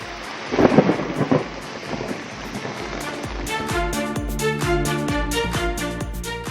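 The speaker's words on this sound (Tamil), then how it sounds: "சென்னை மற்றும் அதன் சுற்றுவட்டார பகுதிகளில் இடி மின்னலுடன் கூடிய மிதமான மழை பெய்யக்கூடும்" A deep thunder rumble rolls in loud at first, then gives way to steady rain with a regular tapping pattern that continues to the end.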